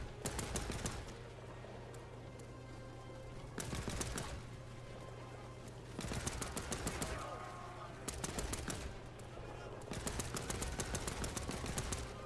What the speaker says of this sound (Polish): Ktoś tu do mnie strzela.